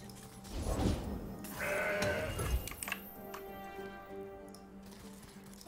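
Goat card bleating in the digital card game Legends of Runeterra, a clear short synthetic bleat at the start over game effects and light ticking, followed by softer chimes.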